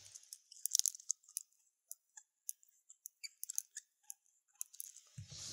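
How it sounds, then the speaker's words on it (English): Light metallic clicks and rattles in irregular bursts, like watch bracelet links being jiggled close up, ending with a faint low rumble. "The first con I want to talk about is the sound of the bracelet"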